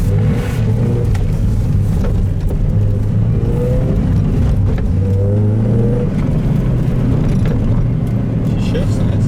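Mazda Miata engine running after a crankshaft repair, a loud steady rumble with rising revs and whirring harmonics, close by for the full length, with people talking over it.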